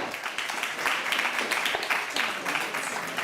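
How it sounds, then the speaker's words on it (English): A room at a legislative committee hearing breaks into continuous applause, with dense overlapping clapping holding steady for several seconds. "We had so much applause"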